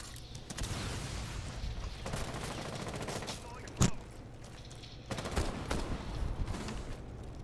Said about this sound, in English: Where's he shooting it from?